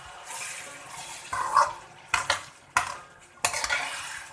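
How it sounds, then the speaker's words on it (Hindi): Chicken karahi browning with salt and green chillies hisses steadily in the pan, broken by four sharp bursts of stirring and scraping as the spoon works through the pieces, heard up close without any voices. "अब थोड़ी देर इसके साथ हमने सब्ज़ मिर्चों के साथ इसको भूनना है।"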